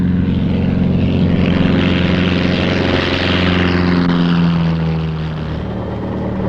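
Light propeller airplane taking off or landing in a gusty crosswind, its engine droning loud and steady throughout with strong low harmonics, easing slightly toward the end.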